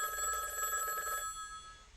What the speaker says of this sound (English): After a while, I finally realize the phone is ringing